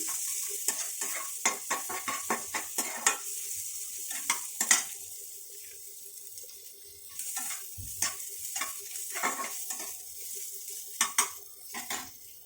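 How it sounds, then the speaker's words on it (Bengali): Chopped onions lightly frying in a pan with a soft sizzle, under repeated sharp clinks and scrapes of a utensil stirring, irregular taps scattered throughout, no talking. "পেঁয়াজগুলোকে আমি এবার একটু ভেজে নেবো এবার একটু হালকা ভেজে নেবো"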